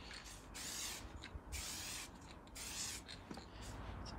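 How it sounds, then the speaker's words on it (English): Etch primer is sprayed onto Mercedes R107 body panels in light coats, with repeated short hissing bursts at a steady rhythm, faint and close. "It's actually quite difficult to spray that etch primer."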